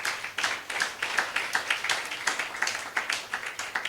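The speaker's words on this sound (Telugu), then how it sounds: "నమ్మిన వాళ్ళు కొట్టండి గట్టిగా చప్పట్లు." A congregation claps hands together in a church service, a steady run of even, moderately distant claps repeating at a quick regular rhythm.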